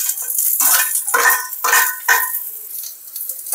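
Onions and green chillies being stirred and sautéed in a pan for chow chow chutney, several bursts of scraping and sizzling strokes in quick succession, close and moderately loud.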